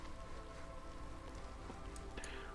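Steady rain from a rain totem in the video game Against the Storm, a soft, even patter of drops that runs without pause for a few seconds, faint and alone.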